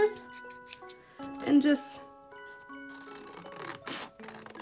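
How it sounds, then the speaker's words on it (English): Scissors cut paper placeholders, giving short scraping snips under a person's voice, with faint music in the background. "So I'm just gonna go with my scissors"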